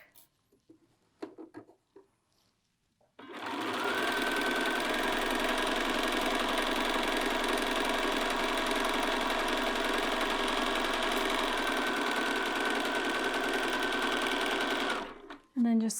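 A sewing machine runs one long, steady, loud stretch while stitching a side seam on a garment body, with a back tack at the start. A few soft sounds come before the motor kicks in and it stops abruptly near the end.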